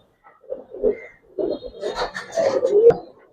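Pigeons coo softly in a loft, giving several close, throaty, rolling calls in uneven bursts against a quiet background.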